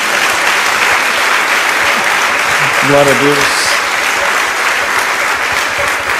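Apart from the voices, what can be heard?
congregation applauding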